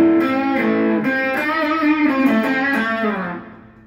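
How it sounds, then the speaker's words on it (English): A Boss Katana 50 MK1 guitar amp on its warm overdrive channel plays sustained, gently distorted chords and notes, full and harmonically rich, ringing loud and close before fading out at the end. "And I'm going to start off with the warm overdrive."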